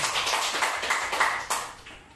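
Congregation applauding in a church during a sermon, a dense wash of clapping that stays steady, then thins out and fades toward the end.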